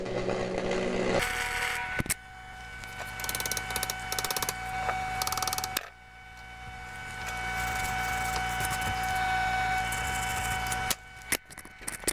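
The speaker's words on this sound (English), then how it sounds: "let's try welding this side next" Welding a repair on a Page-Lewis Arms Model D: a close, loud, steady crackling arc buzz with a faint hum running through it, a short break around the middle, then stopping near the end with brief clicks after. No one speaks.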